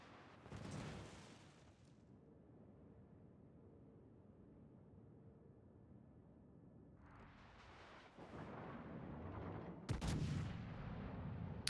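Artillery shells fire in a tank video game, giving a few muffled broadband booms over a low rumbling background, heard faintly with no talking.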